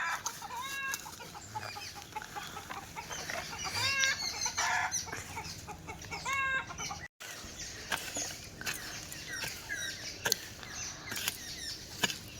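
Village chickens clucking around a rural kitchen yard, with repeated overlapping clucks and squawks over a low background hiss, fairly faint and ongoing, briefly cut off near the middle, with no speech.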